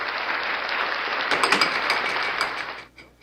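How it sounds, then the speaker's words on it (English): Applause from a live air hockey crowd, a dense steady clatter of clapping that swells with a few sharper claps mid-way, then thins out and fades near the end. "You're going to get an applause for reminding me of the word."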